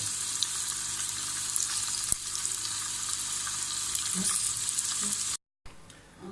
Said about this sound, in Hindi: यहाँ पनीर को अब हम फ्राई कर लेंगे और एक एक पीस को डालेंगे ताकि पनीर टूट ना जाए।